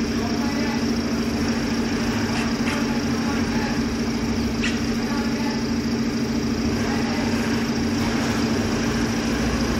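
Camper van engine droning steadily while someone else drives, a loud constant low rumble with road noise filling the whole stretch and a few faint knocks.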